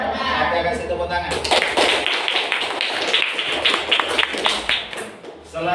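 Audience clapping after a presentation, a sudden burst of dense applause at close range that rises after a spoken line and carries on for several seconds before thinning out.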